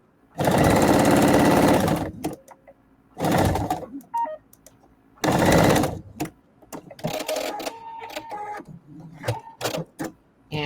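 A sewing machine stitches through a quilt in several rapid, loud mechanical bursts, the longer runs separated by short pauses and small clicks of handling.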